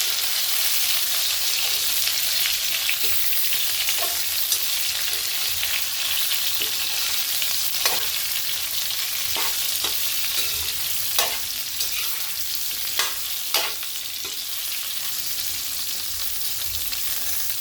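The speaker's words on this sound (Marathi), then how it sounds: "मोहरी चांगली तडतडली आता हे मसाला भरलेले वांगे टाकू" Masala-stuffed eggplant fries in oil with crackling mustard seeds over low heat, giving a constant close sizzle with scattered pops and stirring clicks that go on with no talking.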